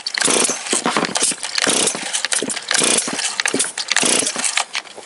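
A chainsaw with a suspected carburetor fault starts and runs loudly and close by, its engine surging in repeated bursts of revving with brief dips between them.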